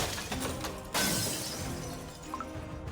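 Shattering sound effect in Cookie Run Kingdom, a sudden bright crash of breaking fragments bursting in after a short lead-in, then a fading scatter of debris, faint and brief.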